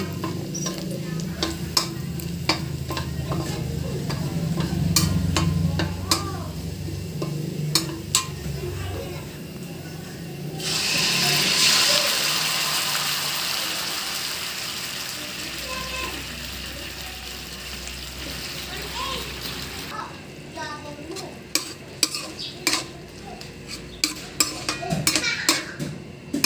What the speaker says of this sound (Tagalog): magigisa naman tayo ng sardines